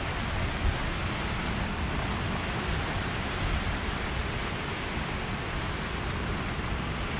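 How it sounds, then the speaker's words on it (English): Heavy rain pours during a major storm, heard from a deck in an urban garden as a dense, loud, unbroken roar of hissing drops that lasts several seconds with no talking. "the rain is now coming"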